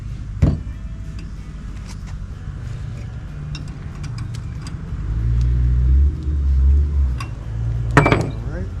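A car arrives outside a workshop where Mustang projects are being worked on, its engine rumble swelling from the middle of the clip under faint background shop noise, with a brief clatter near the start.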